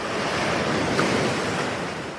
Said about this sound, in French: Les rafales de vent sur la côte ouest, ça décoiffe.